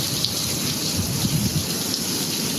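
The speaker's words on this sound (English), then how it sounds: "Oh my, it's been raining for like 10 days straight." Heavy tropical rain during the stormy season, a steady dense roar of falling water, loud and continuous with faint scattered drops, no voices.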